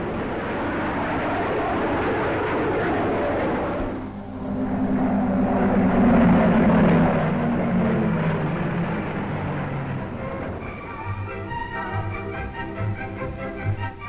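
Royal Air Force planes fly over a celebration at the launch of the Cunard White Star ocean liner Queen Elizabeth, a loud, sustained propeller-engine drone that swells and fades, with a second engine tone rising near the end.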